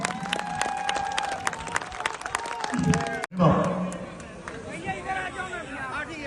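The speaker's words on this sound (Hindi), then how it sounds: "उन सिपाहियों के लिए जरा एक बार हाथ उठा के ताली बजाइए" A live show audience breaks into applause and cheering that swells, then cuts off abruptly before a second wave of crowd noise and chatter, with a voice speaking over it.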